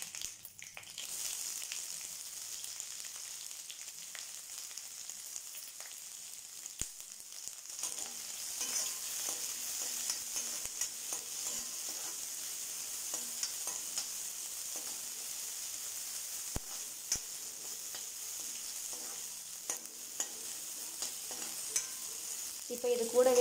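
Sliced onion with curry leaves being sautéed in a pan, a low, steady sizzle with occasional scraping stirs and a few light knocks, fairly quiet throughout and with no talking.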